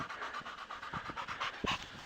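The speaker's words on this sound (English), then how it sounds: "Mike is panting a lot because it's hot." Mike the dog pants quickly and rhythmically in the heat on a trail run, quiet and close, with a few louder breaths near the end.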